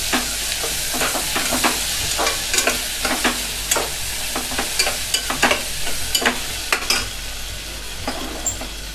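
Chopped onion and tomato fry in a pan for dal khichdi tadka with a steady hiss. A spoon scrapes and taps the pan in a quick, uneven rhythm, close by, with no talking.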